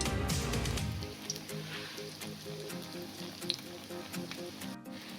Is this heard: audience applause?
no